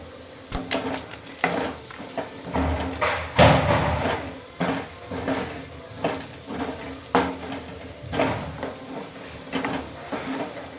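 Chicken pieces mixed with coriander powder and chicken masala in a pan for a Telangana-style chicken fry, heard as repeated scraping and clinking strokes of a spoon against the pan at a loose, steady rhythm, up close.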